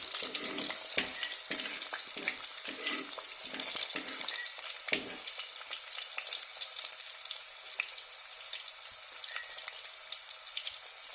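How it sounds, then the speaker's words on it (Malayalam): Garlic and green chillies fry in hot oil for a fish curry, a steady close crackling sizzle with brief stirring knocks early on, then a settled even hiss for the rest, no voices. "വെളുത്തുള്ളിയും പച്ചമുളകും നന്നായി മൂക്കണം"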